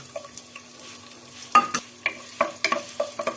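Chopped onion, chili and garlic frying in oil for a pumpkin, potato and lentil dal, with stirring scrapes and clinks over a low steady sizzle, several sharp utensil strikes in quick succession near the end.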